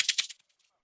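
A cabasa is shaken in a few quick, close, bright metallic rattles over less than half a second, each burst crisp and scratchy, ending in silence.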